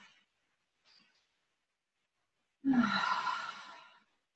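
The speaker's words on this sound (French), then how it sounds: "Alors, on relâche, puis on inspire." Seated breathing exercise: after a near-silent pause, a single long audible exhale or sigh rises abruptly and fades over about a second and a half, close to the microphone.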